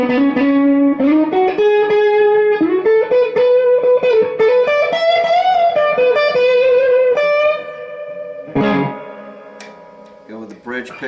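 An Agile 3200 electric guitar plays clean tones, a loud, close run of plucked notes and sustained chords with a slight chorus shimmer, then a final strum and a few quieter notes as the playing trails off.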